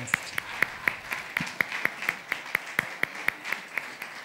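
One person claps in a slow, steady rhythm of about four claps per second in a hall, with faint room murmur underneath, as a speaker is welcomed to the podium at a family seminar.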